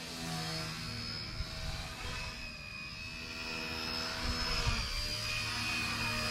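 Rotor and motor of an XK AS350 RC helicopter hovering outdoors in wind, a steady whining buzz with tonal harmonics that rises and falls slightly, close and continuous with no talking.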